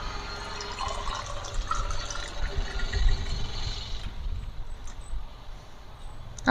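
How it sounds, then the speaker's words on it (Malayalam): Strained lemon water pours into a glass in a steady close splashing stream that eases and grows quieter toward the end, with no talking. "ഗ്ലാസ്സിലേക്ക് ഇത് പകർത്താം"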